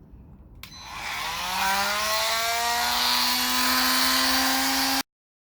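Milwaukee M12 multi tool with its stock blade starting up and cutting, a sharp click followed by a rising, steady high-pitched buzzing whine that holds for about four seconds before cutting off abruptly, close and loud with no voices.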